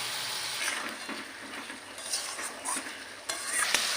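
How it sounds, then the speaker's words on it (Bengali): Brinjal and masala get stirred and sautéed in a pan, giving a continuous soft sizzle with scraping spoon strokes and occasional light clinks, close and steady with no talk. "এখন ভালো করে নেড়েচেড়ে কিছুক্ষণ 3 থেকে 4 মিনিট কষিয়ে নেবে"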